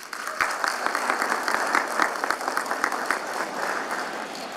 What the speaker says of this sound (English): let's give Serenity another round of applause